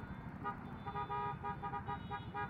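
Car horns honk repeatedly in a traffic jam at an intersection, overlapping steady toots under traffic noise, moderately loud and continuous.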